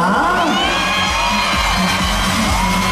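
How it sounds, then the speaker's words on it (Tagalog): A large crowd of children shouting and cheering together, loud and continuous, with excited whoops rising above the steady roar of voices. "Ang daming sumigaw."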